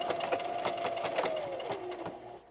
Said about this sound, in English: now I'm just going to sew this side seam here